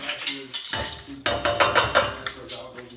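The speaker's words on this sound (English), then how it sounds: "you're just gonna stir it until the oil coats the rice" A utensil scrapes and clinks against a pot while rice is stirred in oil, in close, repeated strokes that are loud and steady with short pauses between them.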